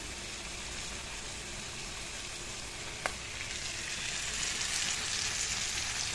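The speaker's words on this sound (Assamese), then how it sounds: "এইখিনি কেইমিনিটমান সময় এনেকৈ কম জুইতে মই ভাজি থাকিম যাতে মাছখিনি লাগি নধৰে" Fish sizzles gently in a pan over a gas flame turned low, a steady faint frying hiss with one brief sharp tap midway and no voices.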